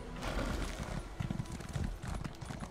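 Horse hooves in The Elder Scrolls Online clop in a steady, quick rhythm, moderately close, with a faint background bed and no talking.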